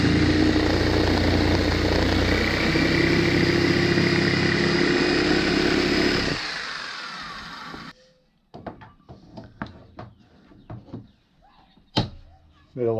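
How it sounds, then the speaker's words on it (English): A jigsaw cutting wood for side cabinets buzzes loudly and steadily for about six seconds, then stops, followed by a series of sharp knocks and taps from handling the workpiece. "which is the jigsaw"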